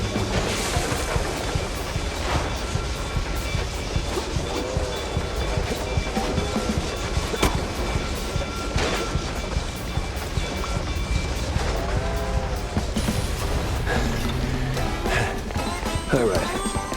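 A train passes in the video game Mouse P.I. for Hire, a loud, continuous rumbling clatter with rhythmic clacks running through the whole stretch, while voices talk over it.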